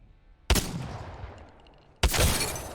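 Two sharp, loud gunshots about a second and a half apart, fired at a training dummy in the shooter game Apex Legends, each with a ringing decay and no talking.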